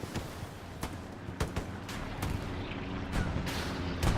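Gunfire in a competitive ECL Division 2 online shooter match, with repeated loud sharp shots cracking at irregular intervals over a constant low rumble of game ambience.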